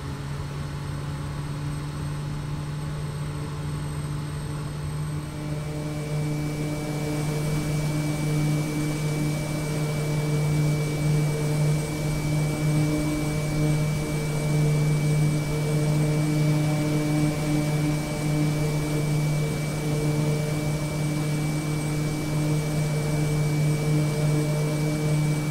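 Steady propeller-engine drone of a Quest Kodiak turboprop on final approach in Microsoft Flight Simulator, a strong low hum with constant tonal lines, rising slightly after the first few seconds and holding level throughout, no talk.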